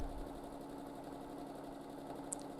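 A domestic sewing machine runs continuously during free-motion quilting with a steady low mechanical hum and whir. It stays fairly quiet with no voices, and a tiny click comes near the end.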